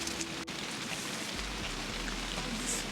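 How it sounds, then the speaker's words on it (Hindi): Heavy rain drums steadily during car camping in Jai Valley, a dense, even hiss of drops on surfaces close by with a low rumble beneath, continuous and without voices. "बारिश पड़ रही है"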